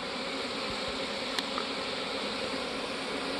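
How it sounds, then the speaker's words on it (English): A honey bee swarm fans at a hive on a plum tree, a dense, steady buzzing drone close by with no pauses. "They are fanning the pheromones out of the hive, which will attract the other bees to here."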